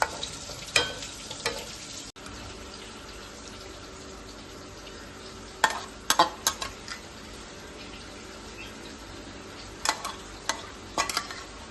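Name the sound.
squid fry being stirred with curry leaf powder and coriander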